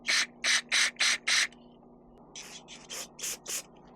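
Short spray bursts cleaning out a part on a Kawasaki Mule 3010 utility vehicle: five rapid, evenly spaced loud hisses, a pause, then five softer ones, under a faint steady hum.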